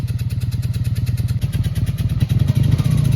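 A Honda Magna VF700 motorcycle sets off on its first ride, its engine throbbing in a loud, steady, rapid pulse up close, then rising slightly in intensity as it pulls away.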